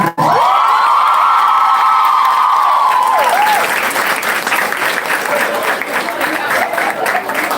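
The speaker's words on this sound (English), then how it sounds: "Big round of applause." An audience at a quiz competition trophy presentation breaks into sustained loud applause with cheering and whoops. A brief shout or tone rises near the start, then dense clapping fills the room.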